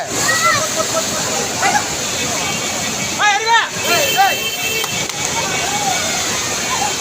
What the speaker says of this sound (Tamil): தென்காசியில் பழைய குற்றாலம் அருவியில் திடீரென வெள்ளப்பெருக்கு ஏற்பட்டது